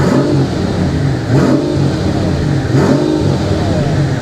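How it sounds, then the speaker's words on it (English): A car engine revs up twice in short, loud bursts over a steady running hum, heard up close with no talk; the car is said to have an exhaust issue. "Got a little rev to it."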